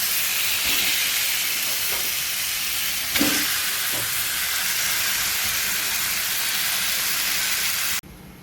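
Fish head sautéed in a pan, a long loud steady sizzle with a few scraping stirs that ends abruptly near the close, with no talking.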